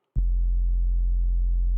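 A low sine wave bass note run through tube distortion starts abruptly and holds steady and loud, a thick sustained tone with added harmonics stacked above the fundamental, alone without any voice.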